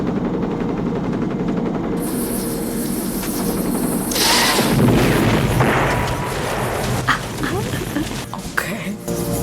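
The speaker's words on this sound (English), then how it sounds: "How did he land the helicopter?" A helicopter rumbles and roars while landing in the action film Rambo: First Blood Part II, loud and continuous under a dense movie soundtrack, with speech and a few sharp impacts mixed in.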